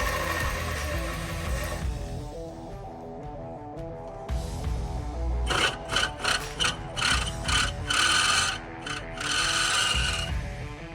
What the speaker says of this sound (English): we're just going through drilling those holes now